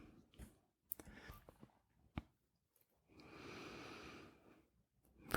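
A slow, soft exhale during breathing meditation, a gentle airy rush lasting over a second after a few faint clicks and small breath sounds, close and quiet.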